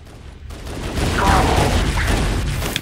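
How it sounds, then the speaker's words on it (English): Muffled gunfire and a grenade blast in the Halo Anniversary game, a dense sustained rumble of shots and booms with no clear gaps. "I'm going to try to throw a grenade if I have any more"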